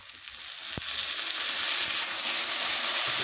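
Taro stolons frying in a pan give off a steady, bright sizzle, with one sharp clack early on and the hiss building and holding loud to the end, with no talk.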